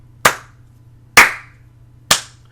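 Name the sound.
slow clap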